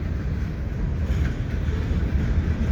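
A CN freight train rumbles past at the Lachine Canal Bridge in St Henri in winter, a continuous heavy low roar of rolling wagons held close and steady, with no voices.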